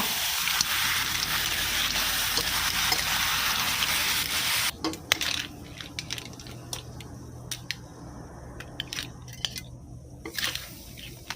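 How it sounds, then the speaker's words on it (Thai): Stir-fried clams in Thai roasted chili paste are scooped onto a serving plate, with sizzling and wet scraping at first, then a run of sharp spoon-on-plate clicks and taps, close and fairly loud. "ตักหอยรายตัวใหญ่ๆ นะคะ เสิร์ฟได้เลยค่ะ"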